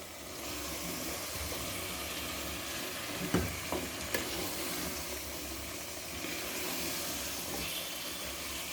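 Potatoes and spinach fry in a pan for aloo palak with green chillies and masala, giving a steady close sizzle with a few sharp clacks of stirring midway and no talking.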